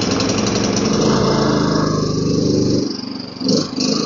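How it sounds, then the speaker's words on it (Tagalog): A PhilKing 4200 generator runs loud and close with a steady, chugging engine drone, then its pitch and level drop near the end as the engine speed settles lower. "Itest na natin yung ating generator para malaman natin na working siya"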